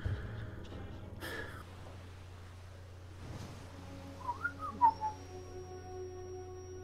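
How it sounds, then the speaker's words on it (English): A dog whistle gives a few short, shrill chirps near the middle, followed by a thin sustained high tone, all fairly faint over a low steady background hum on a jungle island. "Dog whistle."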